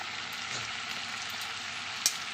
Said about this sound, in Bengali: এবার ভালো করে মশলাটা কষিয়ে নেব সবজির সঙ্গে